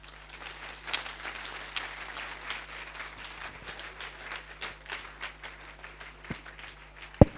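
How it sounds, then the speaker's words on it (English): Moderate, fairly distant applause from an audience at a faculty dean's awards ceremony, a steady patter of clapping with a couple of sharp knocks near the end. "Please, let the applause keep coming."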